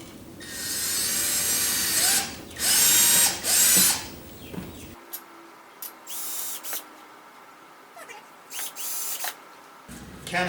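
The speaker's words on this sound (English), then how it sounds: "I'll drill the guide holes" A power drill boring guide holes into soft timber for a pedal board, a few loud whirring bursts at first, then quieter intermittent scraping and handling sounds.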